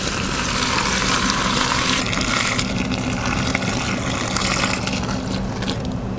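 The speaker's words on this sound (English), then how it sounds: "followed by a generous pour of water" Water is poured into an extra large dough mixer holding flour and yeast, making a loud steady splashing rush over a low machine hum with no talking.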